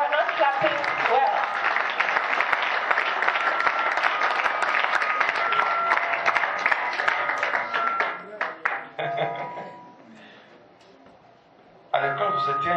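An audience applauds a bishop at a gathering in Cape Town, a dense, loud wash of clapping for about eight seconds that thins out and fades, with voices talking over it.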